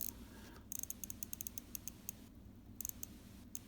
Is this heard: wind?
no